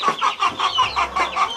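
Backyard free-range hens cluck steadily in a close, rhythmic chorus of repeated calls after being fed, with a low hum underneath and no talking.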